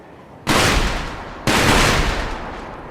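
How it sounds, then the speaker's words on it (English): Two loud firecracker traps burst in Sekiro, each a sharp crackling blast about a second apart, with a long crackle and echo trailing off after each. "I guess they put firecrackers and as traps"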